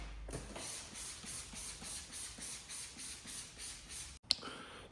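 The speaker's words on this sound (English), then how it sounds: "This is just a wheel cleaner" Wheel cleaner sprayed from a trigger bottle onto a Porsche 997 911 Carrera wheel: a rapid series of about a dozen short, even hissing squirts, close up, ending in a sharp click.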